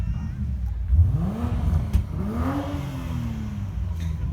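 A Mark 5 and a Mark 4 Toyota Supra trade revs at a car meet, two rising and falling engine sweeps, the second longer and higher, with outdoor crowd noise and a couple of sharp knocks.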